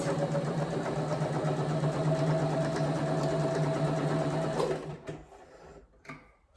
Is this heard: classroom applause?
no